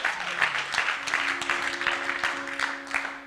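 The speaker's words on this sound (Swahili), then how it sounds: "Pigeni pastor wetu makofi." Church youth audience applauding at a night vigil, a brief burst of close clapping with uneven rhythm, a faint tone humming underneath.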